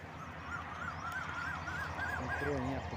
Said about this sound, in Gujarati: અહીંયા ખૂબ જ બતકો રહે છે આ તળાવમાં